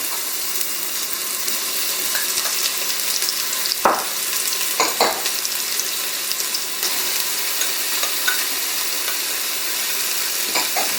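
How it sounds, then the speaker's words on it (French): Onion and mushrooms browning in a Moulinex Cookeo, a steady bright sizzle throughout with a few sharp scraping stirs in the middle, no voices. "Je fais dorer pendant environ 2 minutes."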